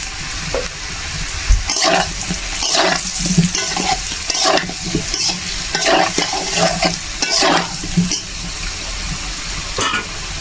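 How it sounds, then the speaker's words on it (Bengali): Pieces of taro fry in a pan with a steady sizzle, broken by repeated, rhythmic stirring and scraping strokes that sound close and fairly loud, with no talk. "এই কচুটা কিন্তু ভালো করে ভাজতে হবে"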